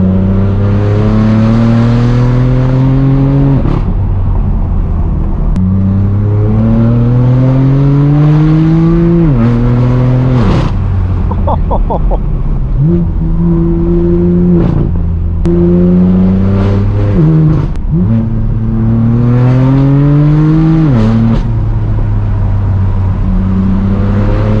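Straight-piped BMW M4 F82 driving in Malibu, its loud raw exhaust roaring through repeated upshift-rising acceleration pulls with sharp pops and crackles between gears, close and dominant throughout.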